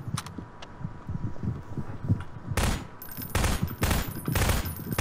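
Gunfire rattles in a Garry's Mod game, quieter scattered shots followed by loud bursts of rapid fire, up close and with no talk over them.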